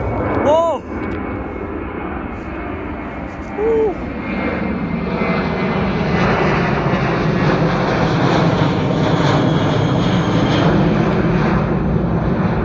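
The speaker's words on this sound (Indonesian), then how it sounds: "semoga bisa lihat pesawat yang mendarat atau landing atau take off" An airplane at an airport in Tasmania gives a loud, steady engine roar that swells and stays strong. Brief voices come early on, and the roar then carries alone.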